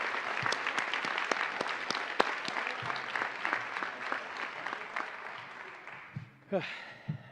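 A band concert audience applauds award winners at a high school spring concert, steady dense clapping that fills most of the stretch before fading, with a voice briefly speaking at the end.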